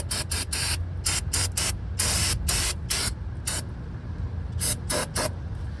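Short bursts of pressurized aerosol brake cleaner spray hiss in quick, irregular succession, close by, with a brief sustained spray in the middle, on a 2019 Toyota RAV4's brakes.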